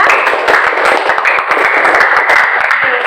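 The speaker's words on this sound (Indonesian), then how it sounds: "Beli tepuk tangan buat temannya" Classmates in a school science lesson clap for a student, a loud, close burst of many hands clapping rapidly and continuously in a small room, with no talk over it.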